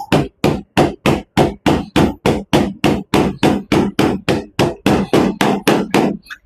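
A P320 pistol is banged repeatedly on a countertop, about twenty sharp, loud, close knocks in an even, fast rhythm, with no talk.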